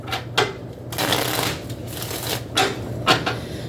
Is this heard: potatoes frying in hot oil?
no